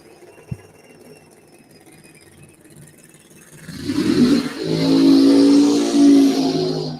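Funny car drag racers fire up their engines at Byron Dragway: after a quiet start with one sharp click, the nitro engines roar to life, loud and close, building into a sustained heavy rumble.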